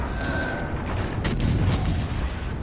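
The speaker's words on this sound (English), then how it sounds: "we're gonna launch a torpedo in his direction, and we're going to fire" Naval gunfire from the IJN Yubari cruiser in World of Warships, two sharp booming salvos about half a second apart over a steady rumbling battle backdrop, loud and close with no talk.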